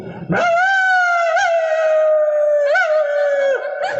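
A human voice imitates a dog's howl, one long sustained wavering note that sags in pitch, loud and close.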